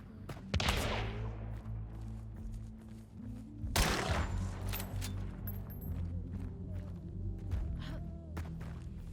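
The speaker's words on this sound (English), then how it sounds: "I'm just shooting at movement and predicting where she's going." Winfield rifle fire in Hunt: Showdown, with two loud shots, the second followed by a long rolling echo, over a low rumbling game ambience with faint movement sounds.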